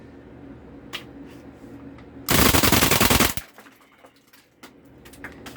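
An airsoft Tech MP5 fires full auto in one loud, rapid, close burst of about a second, with quieter clicks and handling noises before and after.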